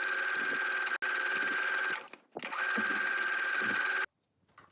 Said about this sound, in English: we can sew all the way around the waistline with a 1/2 inch seam allowance and finish the raw edges together